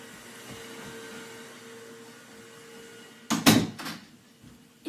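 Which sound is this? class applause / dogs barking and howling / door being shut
door being shut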